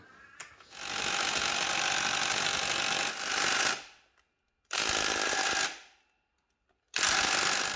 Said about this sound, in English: I really hope this rattle gun can undo it.